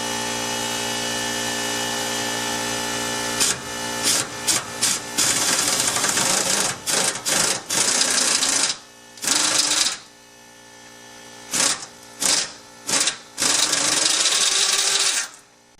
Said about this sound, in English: So now I should be able to unbolt the rest of it there with the impact.